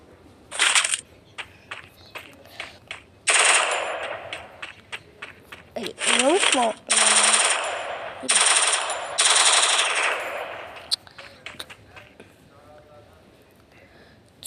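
Rapid bursts of automatic gunfire from a weapon in the video game Free Fire, loud and close, arriving in several clusters with short pauses between them, while someone talks over some of the shooting.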